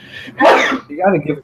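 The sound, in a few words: sneeze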